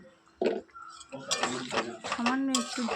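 Spoon stirring dumur (fig) curry in a pan after ghee and garam masala are added, with repeated scraping and clinking of metal against the pan, close and moderately loud, and a few murmured voice sounds between strokes.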